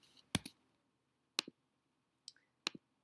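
A computer mouse clicks four times in a quiet room, each a crisp, close, isolated snap separated by irregular pauses of about a second.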